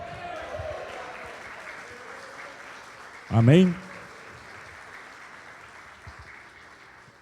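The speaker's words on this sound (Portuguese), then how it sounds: "Se você crê nisso, dá um glória a Deus e aplauda ao Senhor." Church congregation applauding during a Portuguese-language worship service, a continuous wash of clapping under the preacher's voice, with one loud, brief vocal shout in the middle.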